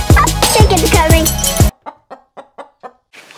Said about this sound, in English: Chicken's coming.